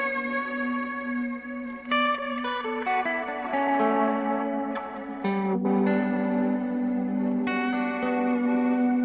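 A Generationloss guitar pedal with reverb placed before it, on a studio pedalboard, turns sustained guitar notes into a warbling, smeared wash with echoing tails and shifting chords, loud and alone.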